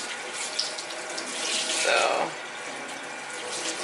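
Tap water runs steadily into a sink to rinse hair dye out of dark hair locs, a continuous close hiss with a brief swell in the middle, and a voice speaks briefly over it.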